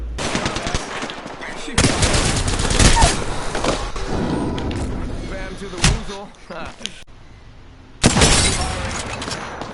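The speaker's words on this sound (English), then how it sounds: "Getting shot at." Gunfire in the video game Apex Legends: loud, rapid automatic bursts and sharp single shots come in clusters with brief pauses, and a voice speaks now and then.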